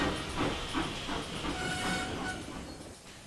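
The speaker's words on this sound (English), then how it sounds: "brought the coaches for the first train to the platform" Train coaches rolling along the track in the Trainz train simulation game, with a steady rumble and faint rhythmic clacking, a soft hiss running underneath.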